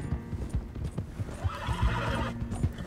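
A horse in the video game Red Dead Redemption 2 neighs over steady clip-clop hoofbeats of galloping, the whinny rising mid-clip above the rhythmic hoof thuds.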